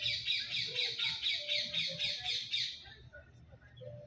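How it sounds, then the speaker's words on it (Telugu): Parrots give a rapid run of harsh, rhythmic squawks, fairly close and loud, that stops abruptly after about three seconds, leaving a few scattered chirps. "చిలుకలు చూడండి ఎలా సౌండ్స్ చేస్తున్నాయో."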